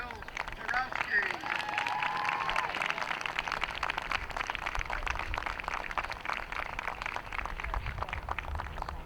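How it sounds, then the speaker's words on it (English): Crowd applause at a high school senior night softball game, steady outdoor clapping and cheering from spectators, moderately distant, with a voice talking over it. "Let's have a round of applause for Jill Zarowski."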